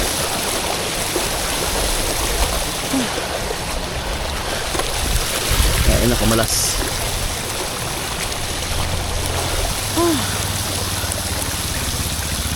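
Deep flood water runs across a street in Legazpi City while a bicycle pedals through it, making a continuous close rushing and splashing wash that lasts throughout. A brief spoken exclamation is heard partway through.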